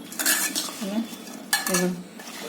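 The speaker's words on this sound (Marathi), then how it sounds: "हे असं मी मिक्स करून घेते याला" Utensils clink and scrape against a pan as masala is mixed into ridge gourd, in short bursts with brief pauses.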